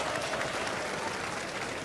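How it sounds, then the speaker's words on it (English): A cricket match crowd claps, a soft, steady wash of distant applause with no individual claps standing out. "Clapping."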